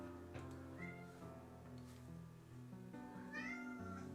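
A cat meows several times up close, drawn-out rising cries spread across a few seconds over a low steady hum.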